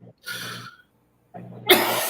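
Close, fairly loud coughing from a person during a livestream: a breathy burst, a pause, then a sharper hacking cough that trails into a rasping exhale.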